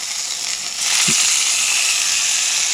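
Hamburger steak patties fry and steam in a covered pan, a bright, steady sizzle that swells louder partway through, with a brief low knock and no talking.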